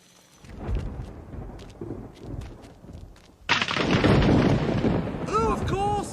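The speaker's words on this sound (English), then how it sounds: "Rain." Cartoon rain and thunder in an animated ancient Roman city in Gaul: a low rumbling roll of thunder, then a loud burst of steady hissing rain that carries on to the end, with a character briefly speaking over it.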